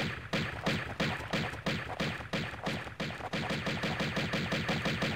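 Rapid enemy gunfire from the 1996 Tomb Raider video game, Sanctuary of the Scion level: a loud, steady stream of repeated shots, roughly five to six per second, with no talk over it.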